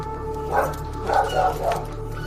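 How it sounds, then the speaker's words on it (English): A big dog barks several times at a house doorstep, moderately close, over a steady mechanical hum. "Big dog."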